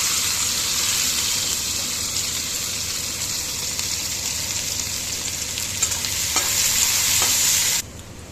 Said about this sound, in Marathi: आता त्याच्यात आपण कांदा टाकतो.